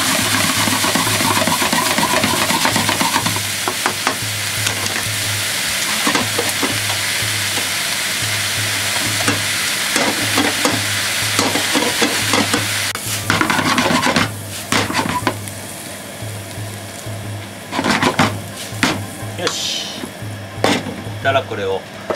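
Yakisoba loaded with bean sprouts and other vegetables stir-fries on a commercial stove, loud steady sizzling with utensil scrapes and clacks throughout, a voice talking over the cooking.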